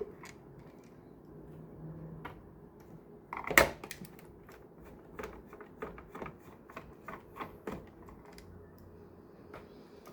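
Screws are being unscrewed from a Kyvol S31 robot vacuum cleaner near its swivel wheel, producing faint irregular clicks and small ticks of the driver on plastic, with one louder clatter early on.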